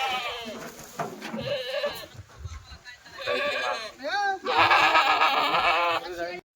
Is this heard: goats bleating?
yes